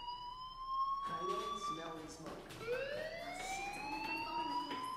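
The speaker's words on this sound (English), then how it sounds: "Do you hear that fire alarm?" An alarm in the video game Life is Strange wails in rising, siren-like sweeps that repeat across the clip, loud and steady, with people talking over it.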